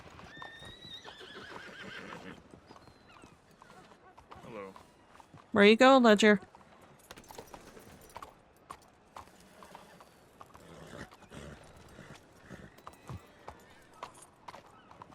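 A horse in the western roleplay game WildRP gives one loud, sharp whinny midway through, framed by scattered hoof clip-clops, while people talk over the scene.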